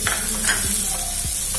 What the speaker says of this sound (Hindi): इसको डाल के अच्छे से चला देते हैं